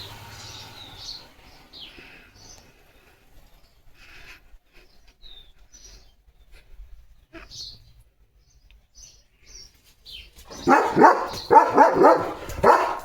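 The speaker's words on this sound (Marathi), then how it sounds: "हा पागल लिओ दोनुस्ता नुसता भुंकत राहतोय" After a long quiet stretch with faint bird chirps, a German Shepherd dog breaks into a burst of loud, close barks near the end.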